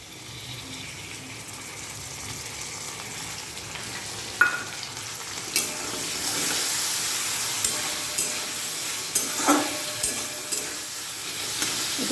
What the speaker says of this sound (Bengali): আর এই আদা রসুনের বাটাটা একটু দিয়ে দিই